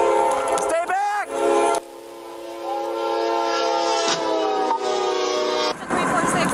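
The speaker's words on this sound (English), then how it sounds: "The 346 patrol car was just hit by a train." A train's horn blares long and loud at close range as the train bears down on and hits a police patrol car parked on the tracks in Platteville, with a heavy rail rumble beneath.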